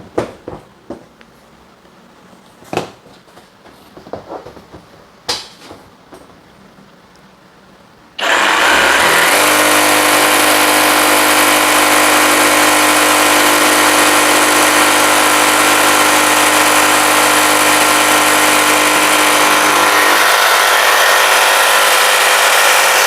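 A Bosch GSA185Li cordless brushless sabre saw with an 18-volt battery starts up after a few quiet seconds of handling noises, then runs steadily and loudly with a high whine until near the end.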